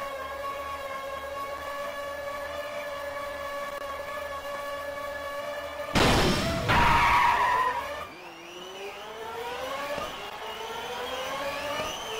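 In a racing video game played on a PSP emulator, a car skids with a loud burst of tire squeal over a steady droning engine tone, then the engine whine resumes.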